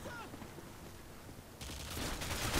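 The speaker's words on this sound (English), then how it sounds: "See him just start shooting." Video game gunfire in Call of Duty Modern Warfare 2, a Domination match on the Scrapyard map, swells into a dense, loud burst of shooting partway through after a murky stretch of background noise.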